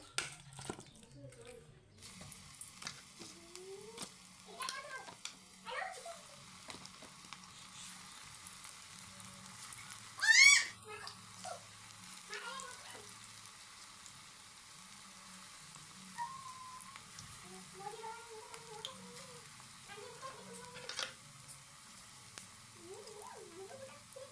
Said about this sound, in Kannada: ಎಣ್ಣೆನ ಕಾಯಕ್ಕಿಟ್ಟೇನ್ರಿ ಬಜ್ಜಿ ಮಾಡಾಕ